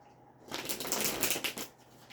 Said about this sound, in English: We're gonna shuffle this deck right here real fast